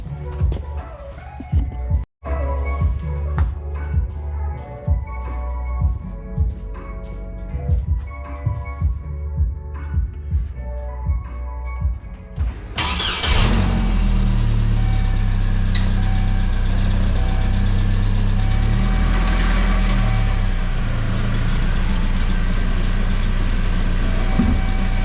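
A Chevy Colorado truck with a newly replaced rear axle is heard, first with clunks and ticks of work around it, then its engine running steadily with a loud, continuous drone.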